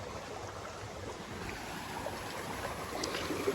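Water from a solar-powered tubewell runs into a wheat field with a continuous soft rushing flow, steady and moderately close, with no voices.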